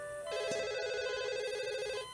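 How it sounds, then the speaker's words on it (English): A telephone rings with a steady electronic warble, loud and close, sustained for about two seconds with no voices over it. "and then the phone rang."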